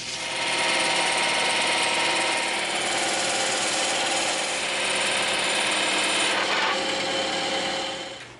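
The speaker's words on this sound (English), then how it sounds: "Love the bandsaw." Bandsaw cutting through EVA foam sheet, a loud continuous motor whine and blade buzz held steady for several seconds, close by, with a brief shift near the end as the cut finishes.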